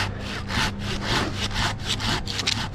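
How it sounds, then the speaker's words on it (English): A handsaw makes a drop cut through white pine, steady back-and-forth rasping strokes in an even rhythm, close and fairly loud, with no talking. "Make a drop cut with a handsaw."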